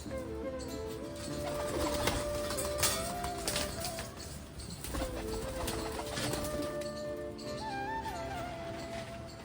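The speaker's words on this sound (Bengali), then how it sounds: "আপাতত এই 4টে পায়রাই আছে।" Newly released pigeons in a home loft coo softly and steadily beneath a dense layer of tonal background music.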